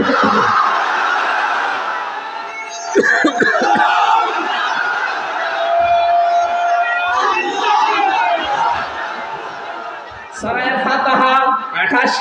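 A large crowd at an outdoor Islamic sermon answers a takbir call with loud collective shouts, rising in bursts over a dense murmur, with a preacher's amplified voice also heard.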